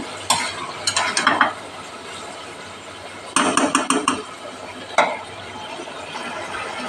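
A vegetable curry of taro stems, pumpkin, potato and ridge gourd sautés in a pan, with bursts of scraping stirs over a soft, continuous sizzle.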